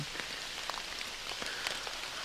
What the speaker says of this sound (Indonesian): gerimis di tempat horor